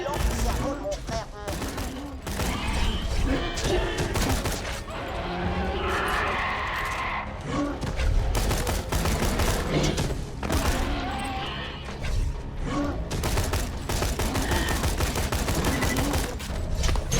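Rapid bursts of gunfire from a weapon in the shooter game Borderlands 2, dense and repeated across the whole stretch, mixed with game action noise and occasional voices.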